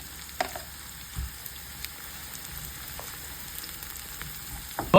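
Garlic sizzling and frying steadily in a pan while cooking Hainanese chicken, a constant close hiss with occasional light clicks of stirring, no voices.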